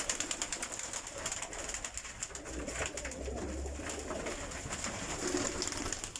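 Pigeons coo in a loft, with repeated low throaty coos over a busy background of rustling and wing flutters, fairly close and moderately quiet.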